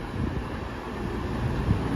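A cross-country passenger train stands at a station platform, giving a low steady rumble and hum with light wind noise across a short stretch, and no talk.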